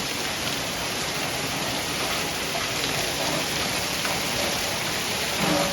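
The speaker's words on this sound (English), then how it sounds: "It came a hard, fast rain." Hard, fast rain pours down steadily around a campground, a dense continuous hiss of drops drumming on surfaces, close and unbroken for the whole stretch with no voices.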